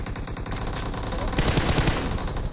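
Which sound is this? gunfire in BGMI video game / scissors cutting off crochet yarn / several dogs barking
gunfire in BGMI video game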